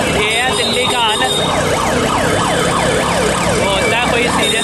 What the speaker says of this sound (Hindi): एम्बुलेंस को जगह नहीं मिल रही